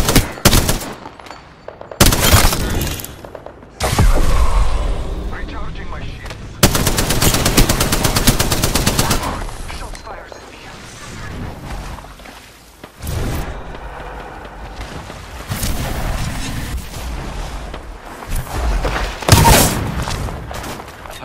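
Apex Legends weapons roar in long, loud automatic bursts separated by short pauses, close and dominant, with booming impacts mixed into a heavy firefight.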